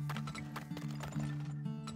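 Horse hooves in the video game Turmoil, a quick steady clip-clop of hoofbeats over a constant droning tonal background hum, fairly quiet.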